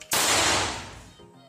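A toy matchstick gun fires a single sharp bang that decays into a rushing, fading tail, with a faint murmur near the end.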